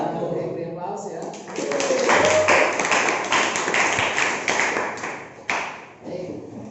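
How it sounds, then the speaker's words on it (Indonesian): Students in a classroom applaud, a rush of dense clapping that swells and then fades, with a few voices talking before and after. "Oke, beri aplaus ya."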